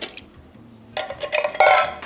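Canned fire-roasted diced tomatoes with green chilies are drained, starting with faint clinks and then brief splashing pours of liquid, close and clattery over the last second.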